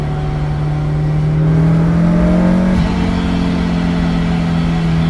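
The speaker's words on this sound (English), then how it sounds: "The blower sucking all this air into the engine." A loud supercharged Toyota AE86 engine with a 7A-GZE swap drones steadily with a rising blower whine as it accelerates, heard from inside the car, no voices.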